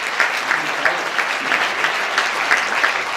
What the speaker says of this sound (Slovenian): Mogoče mu namenimo še en aplavz.